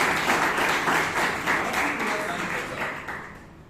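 Audience applause at a Toastmasters club meeting in Bangalore, a continuous room-filling burst of clapping that holds steady and slowly tapers, with faint voices beneath.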